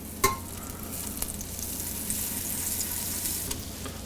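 Butter melts into hot bacon drippings in a pot on medium heat for a roux, giving a soft, even sizzle with a single sharp clink near the start and a few faint taps after, quiet and without talk.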